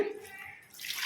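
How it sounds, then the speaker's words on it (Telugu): Water poured from a vessel into a cooking pot for gongura dal, a short close splashing pour that fades briefly and then rises again into a bright gush. "వాటర్ అయితే ఒక రెండు లోటాలు అయితే పోస్తున్నాను"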